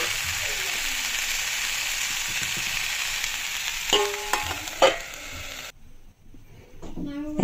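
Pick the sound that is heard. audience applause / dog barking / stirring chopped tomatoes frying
stirring chopped tomatoes frying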